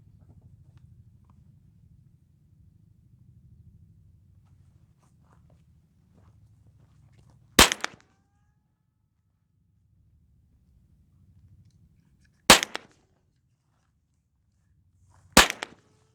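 Three sharp, loud gunshots from reloaded ammunition at an outdoor shooting range, spaced several seconds apart with near silence between them and faint low rumble.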